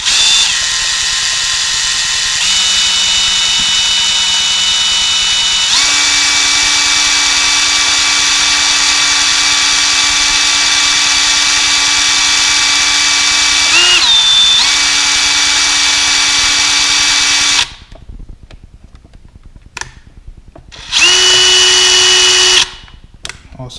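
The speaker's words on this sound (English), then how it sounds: "Just going to slowly drill into it." A power drill whines steadily as it slowly bores into a part for an FMS 1983 Toyota Hilux 1/18 RC truck. The pitch steps up partway through, the drill stops, and a short final burst follows.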